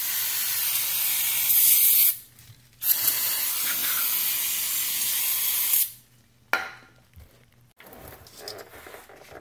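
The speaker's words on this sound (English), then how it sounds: "let me give this a spray" Loud hissing bursts of aerosol spray cleaning a Lincoln Mark VIII differential, several seconds each, separated by pauses, with clicks and faint shuffling as the spraying stops.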